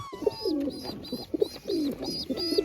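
A handful of pigeons kept for sale coo in a regular series of soft, throaty calls, close and fairly quiet, each phrase repeating at an even pace with no talking.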